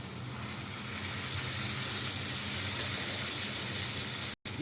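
A little water hits a hot pan and sets off a steady, even hiss of sizzle and steam that runs unbroken and close, cutting out abruptly near the end, with no voices.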